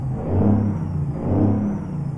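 Truck engines idle and rev up in two swelling waves, a deep mechanical roar close by with a faint whine above it, in a video game.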